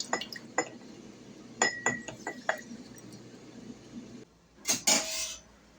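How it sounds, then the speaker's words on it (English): A flat-edged utensil stirs okara in a pan, giving scattered metallic clinks and scrapes against the pan at an uneven pace, followed by a brief louder clatter. "I'm using a utensil with a flat edge so that it can't burn to the bottom of the pan, and stirring constantly."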